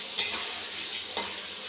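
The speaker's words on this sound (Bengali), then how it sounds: "এদিকে আলু ভাজা চলছে।" Potatoes frying in a pan for a home-cooked meal, a soft, steady sizzle broken by two brief clinks or stirs about a second apart, faint and close with no talking.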